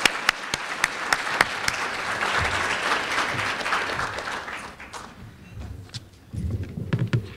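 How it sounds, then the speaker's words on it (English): Scattered claps build into a room full of applause at a closing ceremony, then thin out and fade as footsteps and movement take over near the end. "if you can join me with giving her a round of applause"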